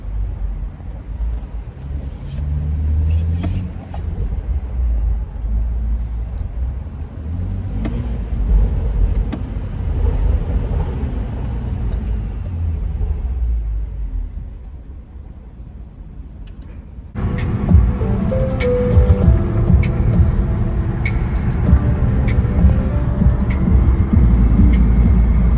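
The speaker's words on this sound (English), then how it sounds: "the homie with the 340 wanted to race the other homie with the Extreme M" Cars racing each other on the road on the way to a car meet, one of them a 340, heard as loud continuous engine and road roar from inside the car. The roar grows heavier near the end, buffeted by wind, with no talk.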